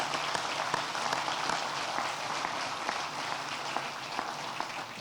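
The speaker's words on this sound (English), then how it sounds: "Give them a round of applause" Applause from a ceremony audience at a grand opening ribbon cutting and dedication in Port St. Lucie: steady, dense crowd clapping that holds at an even level for the whole stretch, with no voices over it.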